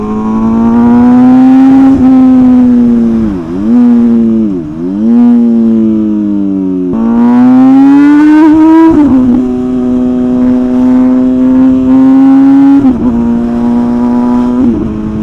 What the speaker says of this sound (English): the sound of this bike, the air-to-fuel ratio is all messed up